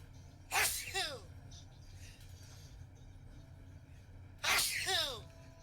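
Two loud, sharp sneezes, each a sudden burst with a trailing vocal tail, about four seconds apart, close to the mic over a quiet background with faint game sounds.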